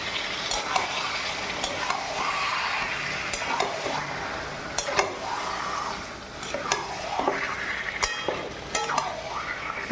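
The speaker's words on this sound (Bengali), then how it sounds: "আমি কড়াইয়ের মধ্যে মাংসটা দিয়ে দিলাম। এবার ভালো করে নাড়তে হবে।" Chicken pieces stirred into spiced onion masala in a wok, a continuous loud sizzle with repeated metallic clinks and scrapes of a spatula throughout, close up and without speech.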